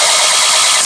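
Starter cranking a 20hp Briggs & Stratton opposed twin engine on a 2001 Murray garden tractor, a brief loud, steady whirring burst with a dense, noisy texture and no talk.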